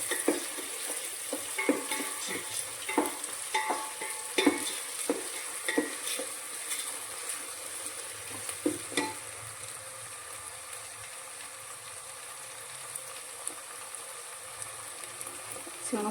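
Chopped green chillies, garlic and ginger fry in a pan while a spoon stirs them, with close clattering scrapes for several seconds before settling into a steady, even sizzle.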